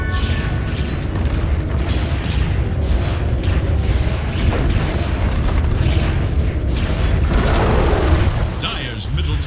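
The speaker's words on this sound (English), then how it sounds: "Dire's middle tower has fallen." Booming crashes of a Dota 2 tower being destroyed in a DreamLeague match between Xtreme Gaming and Team Secret, dense and continuous, mixed with game effects and voices talking throughout.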